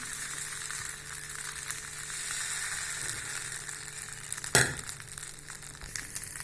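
Dosa batter cooking on a hot pan for a weight-loss dosa, giving a steady close sizzle with one sharp brief clatter partway through, and no talk.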